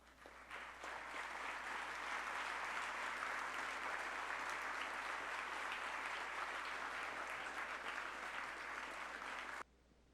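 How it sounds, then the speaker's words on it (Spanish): Sustained, loud applause from a large audience at the opening ceremony of a human rights congress in Bogota, a steady dense roar of clapping that continues for about nine seconds and then cuts off abruptly. "con un fuerte aplauso."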